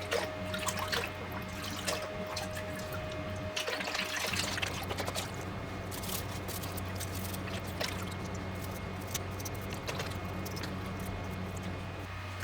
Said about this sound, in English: I'm rinsing these parts off in a bucket of water.